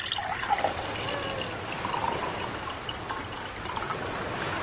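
Water is poured into a glass or container in a home, a steady trickling splash lasting a few seconds, fairly soft and alone.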